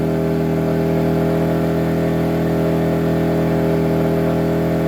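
Bilt Hard TGA-0251 inverter generator, an 1800-watt-class camping unit, runs flat out at about 4900 RPM under a roughly 1900-watt load, giving a loud, steady engine drone with a strong constant hum throughout and no talk.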